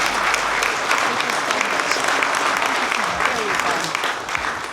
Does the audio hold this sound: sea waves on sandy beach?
no